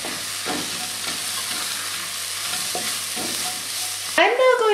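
Chili powder and ground cumin cook in hot oil in a pot for a black-eyed pea chipotle chili, stirred with a spoon. A steady close sizzle runs under repeated scraping strokes, with a brief louder clatter at the end.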